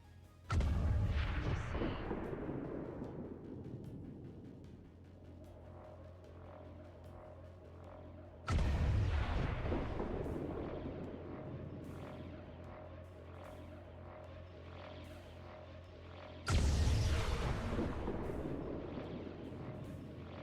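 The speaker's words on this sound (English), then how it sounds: "let's see how far Javelin rockets actually go" Three heavy rocket blasts from XCOM 2 Javelin rockets, each a sudden loud boom that rolls off into a long fading rumble, spaced several seconds apart with low ambient hum between.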